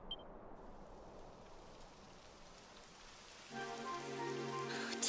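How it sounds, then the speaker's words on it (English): Rain starts falling in the Dragon Quest XI video game as a soft, continuous patter on surfaces, faint and even, joined near the end by a brief tonal musical swell. "Typical. It would have to go and start raining, wouldn't it?"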